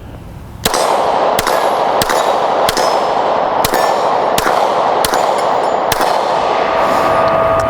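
Eight sharp rifle shots from a Daniel Defense H9 ring out at a steady pace over a constant background hiss, each crack followed by a bright metallic ring.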